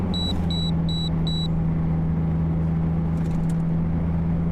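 A truck's warning alarm in American Truck Simulator on the Dalton Highway: four evenly spaced high electronic beeps over a steady engine drone, then the engine continues alone.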